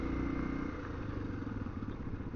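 A Honda XR250L dual-sport motorcycle engine runs steadily nearby at mountain elevation with a rough, rumbling mid-range drone that wavers slightly, no voices.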